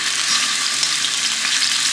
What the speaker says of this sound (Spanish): Vamos a poner a dorar los trozos de pechuga de pollo.